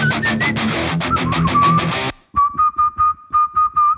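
A person whistles one held pitch as a run of short, evenly spaced blasts, alone and clear after a loud, busy stretch of music, matching a shrill, annoying frequency in a recording.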